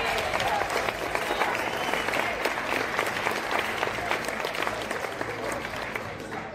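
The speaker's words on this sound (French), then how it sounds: "On l'applaudit, s'il vous plaît." Audience clapping for a singer at a televised show in Beauce, Quebec, a dense, sustained round of applause with crowd noise throughout, fairly distant and even.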